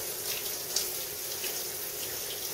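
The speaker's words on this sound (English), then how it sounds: "And just run hot water over them." Hot tap water runs into a kitchen sink over dried pinto beans being rinsed, a steady close hiss of flowing water with a brief splash partway through.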